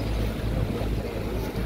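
The river passenger boat Rainha Esther, travelling from Tefé to Manaus, gives a loud, close engine drone mixed with rushing water in a brief burst.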